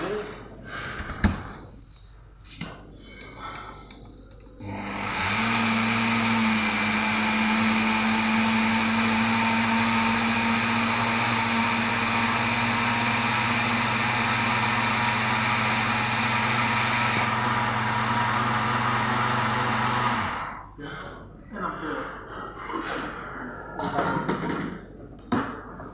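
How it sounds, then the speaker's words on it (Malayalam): A kitchen mixer grinder blends semolina and rice flour for dosa batter, whirring loudly and steadily for about fifteen seconds before cutting off, with handling clatter and brief talk around it. "അപ്പോൾ അത് നമുക്ക് മിക്സിയിലിട്ട് മിക്സ് ചെയ്താൽ മതി"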